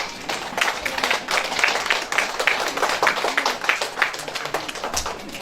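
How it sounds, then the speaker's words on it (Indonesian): A crowd applauds steadily, many hands clapping in a dense, continuous patter that holds at an even loudness throughout. "kita berdiri, kita aplaus, tepuk tangan buat mereka berdua"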